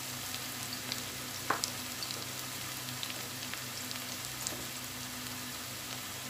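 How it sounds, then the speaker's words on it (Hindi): Aloo sabji with turmeric, salt and red chilli powder fries in a pan over high heat, making a soft, steady sizzle with a few faint clicks and no talking. "तेज आग पे हमको इसको फ्राई करना है अच्छे से"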